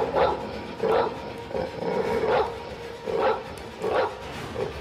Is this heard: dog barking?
yes